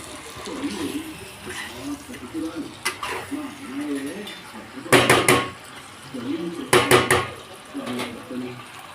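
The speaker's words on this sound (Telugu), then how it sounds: "చికెన్ మొత్తం మసాలా అంతా పట్టేలాగా ఒకసారి బాగా మిక్స్ చేసుకుందాం" Chicken being stirred with masala in a cooking pot for a chicken curry, with soft scraping and a few sharp metal clanks of the spoon against the pot, while someone talks over the mixing.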